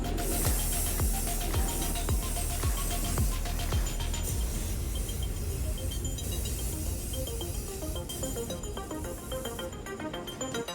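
An aerosol spray can applying a second coat of paint to a restored brake master cylinder, a continuous close hiss running throughout with small clicks and taps mixed in and no talking.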